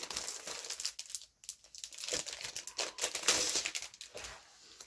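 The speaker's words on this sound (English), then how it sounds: "I apologize for the rustling cellophane noise." Crinkly cellophane rustles and crackles close by in irregular bursts, fairly quiet, with brief pauses between handling.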